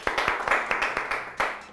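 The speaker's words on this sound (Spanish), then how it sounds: "Por eso merece un gran aplauso." An audience at an art event claps in brief applause, with a handful of distinct hand claps over a soft continuous patter, fairly close but not loud.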